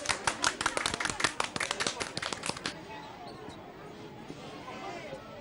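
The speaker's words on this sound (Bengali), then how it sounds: "হাততালি।" A crowd clapping for a few seconds in a quick, ragged burst of sharp hand claps that fades out, leaving a quiet room with faint murmuring.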